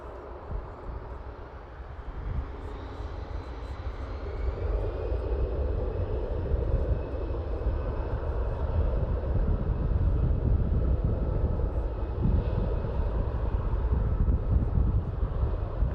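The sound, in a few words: Air Canada Rouge airliner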